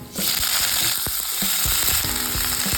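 Drumstick pods drop into hot oil with garlic and cumin and burst into a loud, close sizzle. The frying then hisses on steadily, broken by scattered clunks of stirring against the pan.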